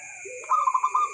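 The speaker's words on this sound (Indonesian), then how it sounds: "justru ketika perkutut berbunyi pada malam hari," A zebra dove (perkutut) coos at night, a short close phrase of soft repeated notes over a faint steady tone.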